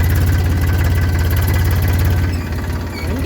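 A 2023-model Massey Ferguson 5245 DI tractor engine idles steadily up close, a continuous low throbbing rumble with no talk over it.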